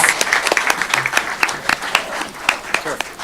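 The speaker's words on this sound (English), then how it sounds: "Give them a round of applause." Audience applause at a city commission candidate forum, a short burst of many hands clapping at moderate distance, with a voice speaking over it.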